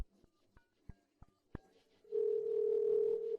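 Telephone dial tone while placing a call: a few short clicks and taps, then a steady, clear continuous tone holding for over a second before cutting off.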